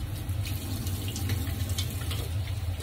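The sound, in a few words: washing hands under a running tap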